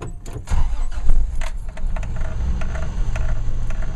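A Toyota FJ60 engine cranks and settles into idle, close by, with a rough low rumble and a few sharp clicks and rattles over it.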